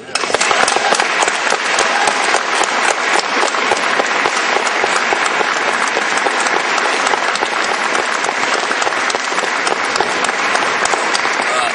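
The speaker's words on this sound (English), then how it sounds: "how about a round of applause for that crew?" An audience gives the color guard crew a long, even round of applause at a patriotic event, with many hands clapping densely and steadily from start to finish.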